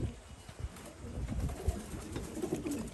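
Racing pigeons cooing and fluttering at the loft as birds arrive home from a 370 km derby race, a steady low murmur of soft calls over constant background noise.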